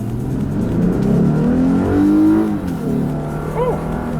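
A 2016 Lexus IS300 F Sport in sport mode pulls hard from inside the cabin, its engine note climbing steadily in pitch and loudness, then easing off before a brief upshift, with a voice speaking over it.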